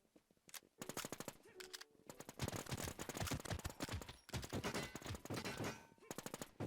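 Rapid automatic fire from a video game gun with a modded sound rattles almost nonstop in dense, loud bursts, broken only by a few brief pauses.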